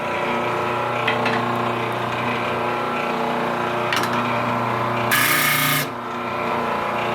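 Ends of a wooden board for a rustic wood flag being sanded, heard as a steady, close motor-like hum with a rough rubbing texture. A louder, harsher burst of sanding comes near the end.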